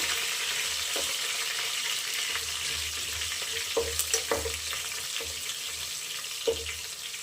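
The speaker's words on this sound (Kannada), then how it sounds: "ಕರ್ಬೇವಿನ ಸೊಪ್ಪು ಮತ್ತು ಪುದೀನ ಸೊಪ್ಪು ಹಾಕಬೇಕು ಚೆನ್ನಾಗಿ ಸ್ವಲ್ಪ ರೋಸ್ಟ್ ಆಗೋ ಥರ ಫ್ರೈ ಮಾಡ್ಕೋಬೇಕು" Curry leaves and mint leaves roasting in a pan, a soft continuous sizzle with a few sharp crackles and spatula taps scattered through, fairly quiet and without voices.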